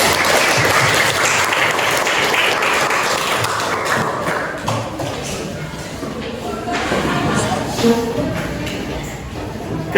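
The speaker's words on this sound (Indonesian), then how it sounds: "Tepuk tangan dulu untuk semuanya." A primary school physical education class applauds in a classroom, with loud, busy clapping at first that thins out into scattered taps and thumps while voices murmur.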